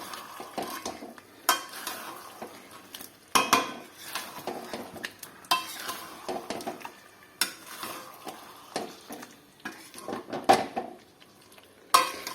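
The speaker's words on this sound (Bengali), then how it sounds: "চিকেনটা ভালো করে আগে কষিয়ে নিই" Chicken stirred and fried in a pan: intermittent metallic scrapes and clinks of a utensil against the pan over a faint sizzle, quiet and irregular, with no talking.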